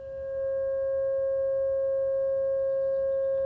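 A pure 540 Hz sine tone plays alone, steady and unbroken. It fades in quickly over the first half second, then holds at an even level with a faint low hum beneath it.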